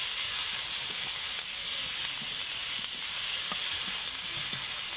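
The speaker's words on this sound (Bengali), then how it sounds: "রসুন আর পেঁয়াজ থেকে কাঁচা গন্ধটা চলে যাওয়া পর্যন্ত ভেজে নিতে হবে।" Garlic and onion frying in oil for a Bengali puti fish chorchori, giving a steady, even sizzle and hiss with faint occasional stirring clicks and no voices.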